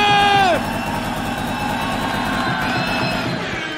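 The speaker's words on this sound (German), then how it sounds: "Ist auch kein überschwänglicher Jubel, aber adäquat." A crowd cheering and whooping at a rap battle in Cologne, loud and sustained, with a sharp shouted peak at the start settling into steady applause and hollering from a packed room.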